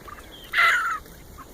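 A chicken in a newly built chicken yard gives one short, fairly loud squawking call about half a second long, with quiet background before and after.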